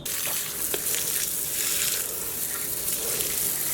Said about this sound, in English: I'm just gonna go ahead and rinse them off real quick.